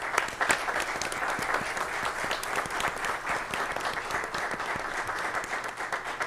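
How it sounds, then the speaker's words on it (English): Applause from an audience at a Township of Union committee meeting, a steady, dense clapping that holds evenly for several seconds at moderate distance with no voices over it. "I'd like a round of applause for them"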